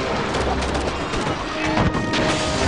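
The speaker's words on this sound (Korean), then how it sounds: "대포로 이거 깨고 있네" Cannons in the strategy game DomiNations pound enemy defenses in a dense, continuous barrage of booms and crashes, loud and close throughout, with no talk over it.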